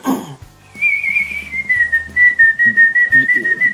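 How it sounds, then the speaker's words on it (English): A person whistles a sustained, wavering tune, fairly loud and close, with the melody sliding down slightly then holding steady with small trills. "I've got quite an annoying whistle."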